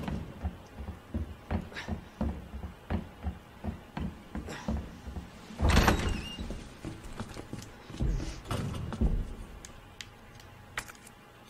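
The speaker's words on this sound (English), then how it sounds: "just hear him kicking down doors" Repeated heavy thuds and knocks as an enemy kicks down doors in the Resident Evil 2 Remake video game, a run of irregular impacts with one louder crash midway, no talk over them.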